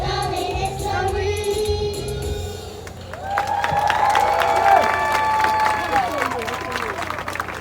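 Audience applause for primary school students at a Barbados lighting ceremony, a steady wash of clapping and crowd noise with some cheering, voices and music mixed in.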